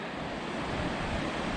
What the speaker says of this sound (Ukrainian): Дійшли до річки.